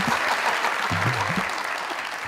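A studio audience claps in a brief, dense burst of applause, with a voice briefly audible over it.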